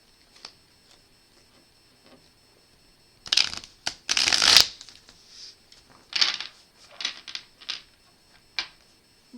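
Crisp riffling bursts of tarot cards being shuffled, a long burst followed by several shorter flicks, close up with quiet pauses between.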